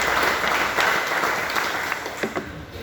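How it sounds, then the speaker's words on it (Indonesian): Audience applause at an indoor organizational meeting, a steady wash of many hands clapping that carries on for about three seconds and tapers slightly toward the end, with no voices over it. "Tepuk tangan."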